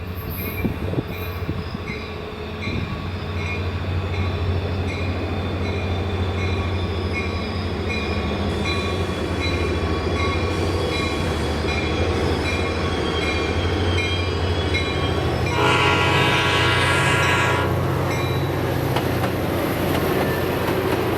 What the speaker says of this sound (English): San Joaquin Train 708 arrives and departs Fresno, continuing its trip toward Bakersfield